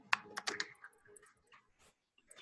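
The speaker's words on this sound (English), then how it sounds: "So Abigail, I hear you typing." Brief bursts of typing on a computer keyboard during an online class call, quiet close clicks in uneven clusters followed by a lull and a few more taps.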